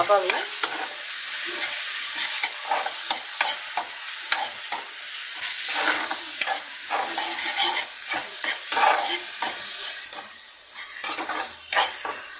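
Masala for a dal pickle curry fries loudly in a pan, a bright continuous sizzle broken by frequent scraping stirs of a spatula, close up and without any voices.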